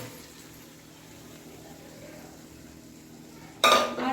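Boiled pigeon pea dal going into a pan of fried vegetables for sambar, a sudden loud wet plop and clatter near the end after quiet kitchen background.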